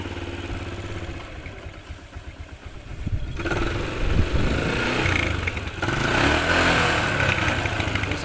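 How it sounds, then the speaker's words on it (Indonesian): A Yamaha Jupiter MX motorcycle engine starts up near the mic, dropping into a steady, smooth idle with some blips of revving and a continuous mechanical drone. "ini kita tes nyalakan motornya ini ya"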